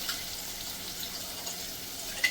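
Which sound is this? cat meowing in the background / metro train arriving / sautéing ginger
sautéing ginger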